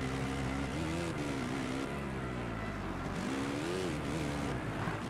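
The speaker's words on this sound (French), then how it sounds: "je trouve qu'on n'entend pas assez le son du moteur" A motocross bike engine in the MXGP video game on PS4, droning steadily with its pitch rising and falling as the bike revs and shifts, loud and continuous without talk.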